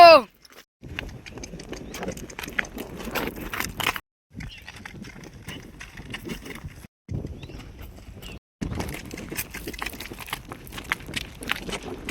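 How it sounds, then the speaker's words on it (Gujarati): A horse walks with a rhythmic clip-clop of hooves, heard close and in bursts with brief pauses, while people talk over it. "હા ઘોડો"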